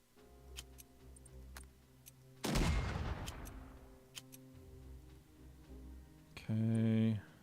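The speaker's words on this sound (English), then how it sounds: "So let's bombard this." Artillery bombardment in the strategy video game Unity of Command II: two heavy booming bursts spaced a few seconds apart, with sharp clicking ticks scattered between them at a low overall level.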